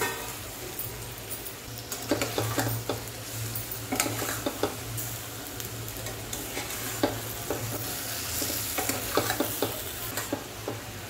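Curry sizzles and fries in a wok on a gas stove while a utensil repeatedly stirs and scrapes through it, giving close, crackling frying with rhythmic stirring bursts and no talk.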